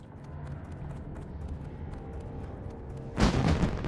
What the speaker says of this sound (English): Oh wow, look at that. Fireworks going off,